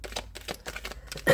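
Tarot cards being shuffled by hand at close range, a run of quick crisp riffling flicks and soft slaps in uneven bursts, ending in a louder snap.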